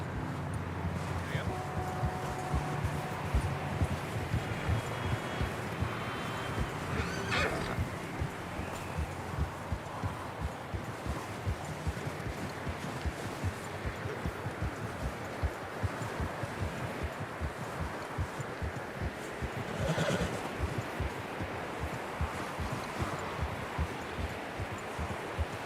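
Horse hooves in the video game Red Dead Redemption 2 beat a steady, fast rhythm throughout, close and moderately loud over a dense bed of ambient noise, with a few brief tonal sounds early on and no clear neighing.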